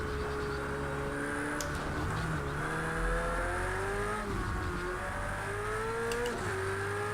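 A racing car engine in a VR racing game at Mount Panorama whines and shifts pitch as it accelerates and drops through gears, steady and continuous with occasional brief skids.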